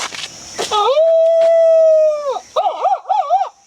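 A dog lets out a long, drawn-out howl that wavers into shorter yowling cries, loud and close, preceded by brief clattering noise.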